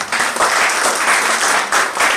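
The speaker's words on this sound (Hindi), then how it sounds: "क्या बात है, एक बार तालियां उनके लिए।" Applause from the audience at a Modicare team meeting, welcoming first-time attendees: a dense, steady wash of many hands clapping close by, sustained throughout with no one talking.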